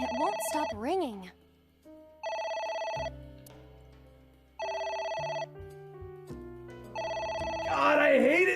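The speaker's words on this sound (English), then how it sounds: "It won't stop ringing." In the video game AI The Somnium Files, a telephone rings in repeated steady electronic bursts with gaps between them, while a player's voice talks over the start and end.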